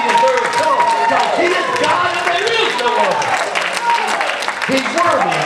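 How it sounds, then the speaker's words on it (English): A church congregation claps in praise during a lively worship service, steady sustained applause mixed with voices calling out and a preacher urging them on over the top. "Just give him a clap of praise."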